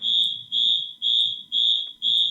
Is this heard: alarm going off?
yes